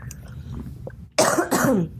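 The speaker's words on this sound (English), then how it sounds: "excuse my cough" A quiet room tone is broken by two loud, close coughs in quick succession.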